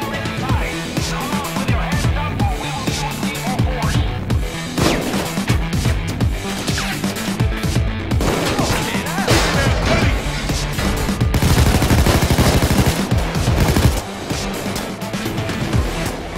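Gunfire during a PAYDAY 2 heist shootout, with dense overlapping shots and bursts, crashes and impacts over a continuous loud game soundtrack, near and relentless throughout.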